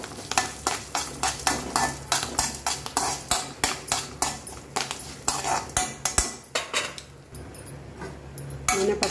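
Urad dal stirred in a little oil in a pan while roasting, a steady run of spoon scrapes and clinks against the metal over a low sizzle, close and fairly loud, with no talking.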